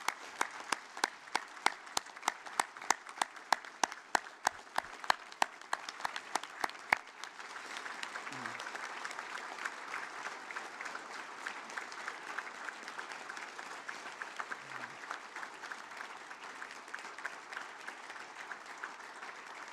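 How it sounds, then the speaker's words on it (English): Families and friends at a university graduation ceremony applaud the graduates. For the first seven seconds, sharp, evenly spaced loud claps stand out over the crowd, then a broad, steady wash of applause carries on at moderate distance. "I'd ask our families and friends to stand and give our graduates a round of applause"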